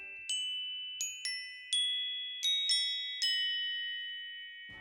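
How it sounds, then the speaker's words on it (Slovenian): A glockenspiel's metal bars are struck in a short run of seven bright, ringing notes, each sustaining and overlapping, clear and close with no voices. "Najmanjše teh melodičnih tolkal so zvončki."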